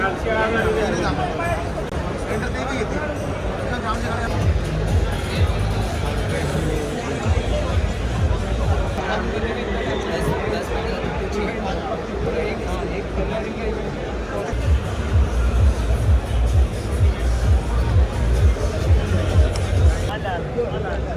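Dense crowd hubbub at a busy Mumbai expo near a sandwich stall: continuous overlapping chatter from many people, with a nearby voice talking over it and the din swelling louder toward the end.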